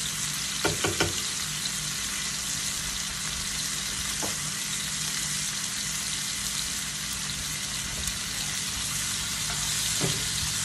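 Garlic and shrimp sizzle steadily in a hot pan, a loud continuous frying hiss with a few faint stirring clicks, close and unbroken throughout, no talk.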